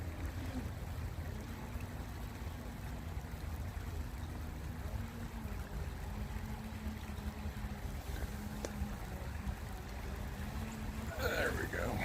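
A camera drone flying in strong wind over Honeygo Regional Park, its steady motor drone labouring in gusts, heard from below amid wind buffeting the microphone, with a person talking over it.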